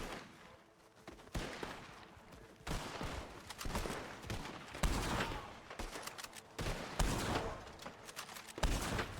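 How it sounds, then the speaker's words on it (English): A Gatling gun fires in Red Dead Redemption 2, loosing repeated bursts of rapid shots separated by short pauses, loud and sustained across the scene with no talk over it. "Gatling gun."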